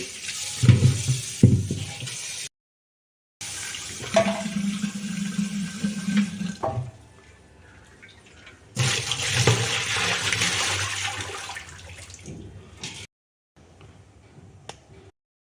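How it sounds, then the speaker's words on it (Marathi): Running water splashes and gurgles in several bursts with short pauses between them, close by, as a clay water pot is rinsed under a tap. "त्याला किती माती घाण आहे ती आधी स्वच्छ पाण्याने आपण धुवून घेऊ"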